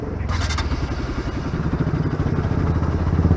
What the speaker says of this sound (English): I'll switch on the bike.